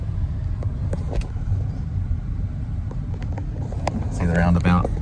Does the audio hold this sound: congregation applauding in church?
no